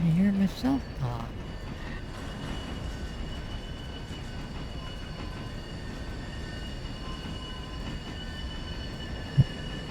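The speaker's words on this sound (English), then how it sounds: "You might be able to see the train coming through the Y up here." Sylva & Western Railroad train rolling past, a steady loud rumble with faint wheel squeal running the whole time, plus brief louder knocks near the start and a sharp clank near the end.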